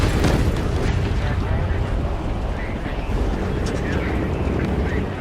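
Bombs dropped from a bomber aircraft exploding, a dense continuous roar of blasts and engine drone that stays loud throughout, with a sharp crack near the start.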